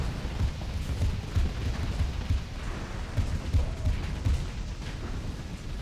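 Ship weapons fire in repeated low, thudding booms during a Starsector space battle, a steady rhythmic barrage at moderate loudness over a constant rumbling bed, with no talking.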